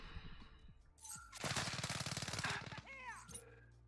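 Assault rifle fire in a shooter video game: a sustained automatic burst of rapid, evenly spaced shots, loud and close, preceded and followed by quieter scattered game sounds.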